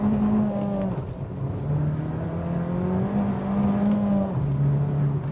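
An Abarth F595 with a Monza exhaust runs at a held idle, then revs up to a steady raised drone and drops back, heard up close and loud with no talk.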